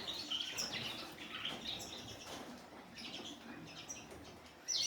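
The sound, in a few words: caged canaries chirping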